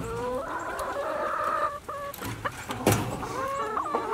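Several chickens cluck and chatter close by around a new poultry waterer, a steady busy flock sound with occasional louder calls and light pecking taps, and no one talking.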